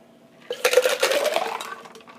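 A Long Island iced tea cocktail is shaken briefly, producing a rough rattling burst of about a second with clinking, loud and close, between quiet moments.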